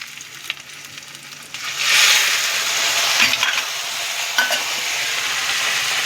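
Hot water hits frying spices in a pan while cooking chhanar torkari, a quiet sizzle suddenly surging into a loud, broad hiss that stays strong and bubbling, with faint clinks of stirring.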